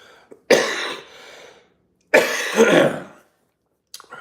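Two loud, harsh coughing fits close by, each a rough burst trailing off, separated by a brief silence.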